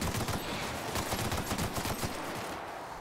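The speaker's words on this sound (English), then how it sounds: "Okay, I don't want to shoot Parvati." Rapid video game gunfire in The Outer Worlds, dense bursts of close shots crackling in quick succession through the whole stretch, loud and sustained, tapering slightly at the end, with no speech over it.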